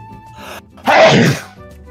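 One sharp, loud human sneeze bursts out after a short intake of breath, close to the microphone during a tabletop game session, with no talk over it.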